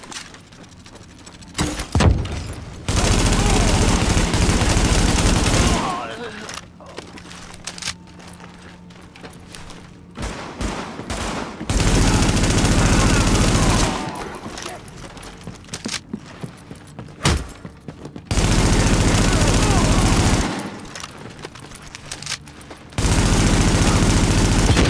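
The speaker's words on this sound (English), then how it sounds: "The escort party's taking heavy fire from the roof." Heavy automatic gunfire from a rooftop gunner in The Division comes in loud sustained bursts, alternating with quieter stretches of scattered shots and impacts.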